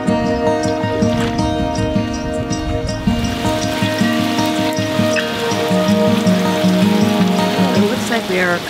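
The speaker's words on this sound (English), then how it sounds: "Right in the middle of this little rain squall. It's just kind of like light rain, not too much wind." Steady light rain pattering and hissing on a sailboat at sea during a small squall with little wind, loud and continuous, with tonal hum and faint voices underneath.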